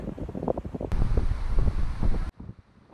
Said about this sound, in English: Still um, pretty windy out there